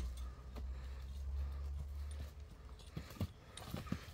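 A young horse walks at a livestock sale in Nookat, its hooves striking the ground in a few faint, irregular clip-clops over quiet background noise.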